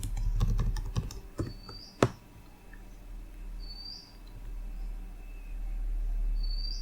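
A password is typed on a computer keyboard in a quick burst of close key clicks lasting about two seconds, ending in one sharp tap. Quiet room tone follows, with faint bird chirps in the background.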